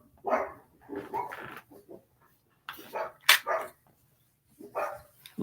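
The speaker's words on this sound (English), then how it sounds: "Once the dogs start barking" Dogs barking in short bursts with pauses between, fairly distant and moderately loud, some yips and whimpers mixed in, no talking.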